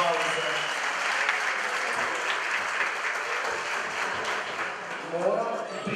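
Sustained applause from a concert audience at an annual folk ensemble show, a dense, even wash of clapping throughout, with voices faintly mixed in.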